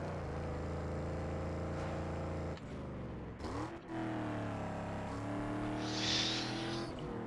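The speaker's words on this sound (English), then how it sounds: "Random AI generated engine sounds for this game." A car engine in the racing video game Need For Speed Underground 2 drones steadily, then its pitch sweeps up and down through gear changes. A brief whir rises near the end, with no talk.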